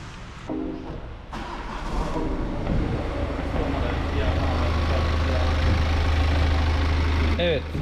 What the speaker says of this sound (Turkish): Araba boşta ama dönüyor.